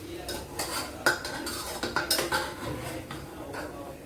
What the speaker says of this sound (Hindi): तो गैस तेज है और इसको हम देखें कस के मिक्स कर लेते हैं।